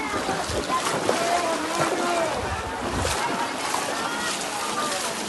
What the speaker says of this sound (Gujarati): પાણી બધું ગામમાં પાણી જાય છે